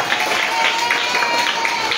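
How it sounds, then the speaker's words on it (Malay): Children at a Maulid Nabi celebration at a religious school clap together in a burst of applause, a steady crowd patter under faint background voices. "Boleh beri tepukan, satu tepukan."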